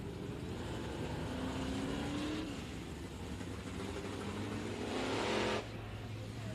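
IMCA Modified race cars roll onto the Kennedale Speedway Park track for a heat race, their engines droning loudly with rising and falling pitch and one clear surge of acceleration near the end.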